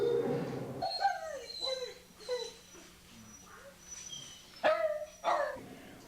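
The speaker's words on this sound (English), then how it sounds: "It might get a little noisy here. This is a dog adoption area." Dogs at an animal shelter's adoption area let out a few sharp barks and whimpering yelps, scattered and fairly close, with quiet stretches between them and a faint background hum.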